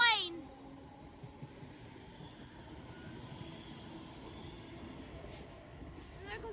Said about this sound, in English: And there goes that train away into the distance.